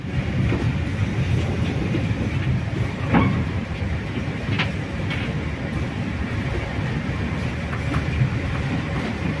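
Steady rumbling of the Blambangan passenger train rolling along rails in Java, with a constant low roar and a few faint clicks and squeaks over the tracks.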